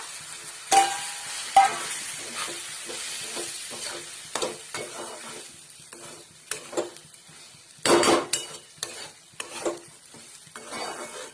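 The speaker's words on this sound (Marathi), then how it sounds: "आपल्याला हा रवा पण आता याच्यामध्ये फ्राय करून घ्यायचा आहे." Semolina roasts in a pan with raisins for vegetable upma, with a quiet dry hiss under repeated scraping and clinking stirs of a spoon against the pan that come in bursts.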